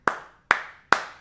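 Three sharp, evenly spaced claps ring out loud and alone during a Cincinnati Bengals versus Jacksonville Jaguars football game, each one fading quickly before the next.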